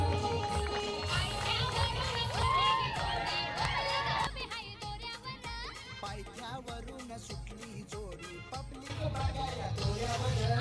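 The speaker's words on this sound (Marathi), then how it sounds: "चला टाळ्या होऊ द्या" Audience applause at a prize ceremony, with dense clapping and crowd noise mixed with loud music that carries on throughout.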